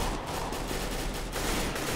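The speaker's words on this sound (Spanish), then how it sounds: "Tú le das a un tío 50 tiros en la cabeza y no muere." Rapid gunfire in CS:GO on the Dust II map, with dense overlapping shots forming a continuous barrage that stays loud and steady from start to finish.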